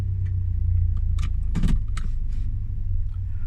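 A car's muffler exhaust rumbles loud and low throughout a morning commute drive, with a few faint clicks and a brief jingle over the top.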